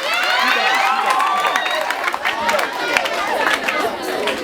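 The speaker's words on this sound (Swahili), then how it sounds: "wapigia makofi wanapoketi" Students at a school retreat clap and chatter as people take their seats, a busy close crowd sound of scattered clapping and overlapping voices throughout.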